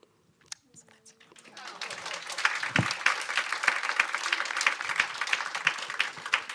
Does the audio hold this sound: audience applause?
yes